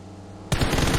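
Automatic gunfire from PUBG Mobile breaks in abruptly after half a second of quiet, a loud, dense, continuous rattle of rapid shots lasting to the end.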